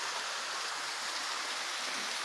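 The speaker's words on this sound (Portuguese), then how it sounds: "Vocês vão ver o que é a cachoeira alta que eu tava falando." Water rushing down a tall waterfall and through a stream in the middle of a forest, a steady broadband hiss that holds at an even level throughout with no voices.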